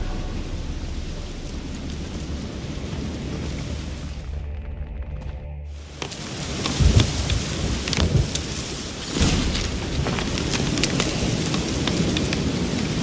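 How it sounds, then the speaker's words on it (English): Thunderstorm in The Witcher 3 video game: steady heavy rain hiss on surfaces, broken by a brief quiet gap, then low rolling thunder rumbles and a sharper crack, with continuous downpour afterward and no talking. "Looks like rain."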